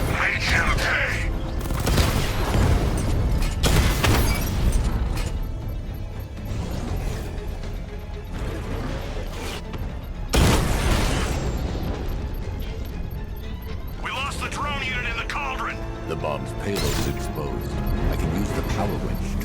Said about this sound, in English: power winch to trigger a controlled explosion.